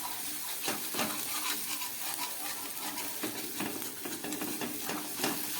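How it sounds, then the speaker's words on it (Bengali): Ginger, garlic, onion and tomato being sautéed in oil in a pan over low gas for a Bengali fish curry: a soft, continuous sizzle with faint stirring scrapes, quiet and close, with no talking. "আদা, রসুন, পেঁয়াজ আর টমেটোটাকে খুব ভালো করে আমি কষিয়ে নিলাম।"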